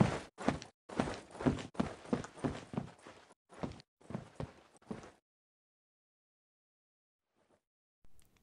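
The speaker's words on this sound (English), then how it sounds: "here's the example of a player walking" Footsteps of a player walking in the mobile shooter Critical Ops, a steady run of crisp, fairly loud steps lasting about five seconds, then near silence with one last faint step.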